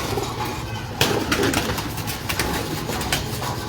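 Pigeons at a fancier's loft, including a red-coloured bird, coo and flutter softly amid steady background noise, with no talk over them.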